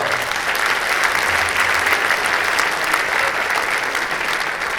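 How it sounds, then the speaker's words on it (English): Sustained audience applause fills a hall at an annual business meeting of a construction association, a steady dense clapping from a large crowd that holds evenly throughout. "Let's give everybody, all the project teams, one more big round of applause"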